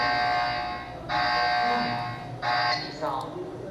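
A Dahua wireless intrusion alarm siren sounds in loud, steady electronic tones that cut out and restart in bursts, with someone talking quietly underneath.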